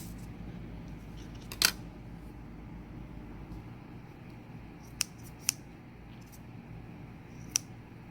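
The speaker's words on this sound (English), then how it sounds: "now I'm going to snip all of these" Scissors snip through paper pieces being cut for a marquee and quill lettering craft, a few sharp close single cuts, one near the start and three spaced later, over a quiet room hum.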